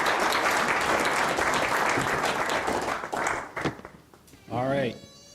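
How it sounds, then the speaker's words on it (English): Audience applause for the speakers at an economic development town hall, a loud sustained burst of clapping that thins out and fades, followed by a brief voice at the end. "Let's give them a round of applause."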